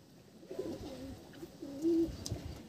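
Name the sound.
desi pigeons cooing in a loft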